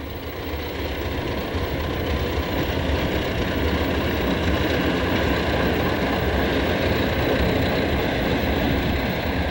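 A Baldwin AS616 diesel locomotive at a desert railroad in Trona runs steadily, its heavy engine giving a loud, continuous low rumble and drone with no pauses.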